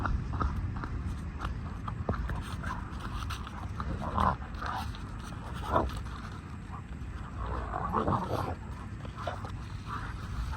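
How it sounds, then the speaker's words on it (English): A dog panting, whining and growling in bursts against a constant noisy background, moderately close, with occasional louder yelps and no clear barking. "oh my God, what's this dog doing?"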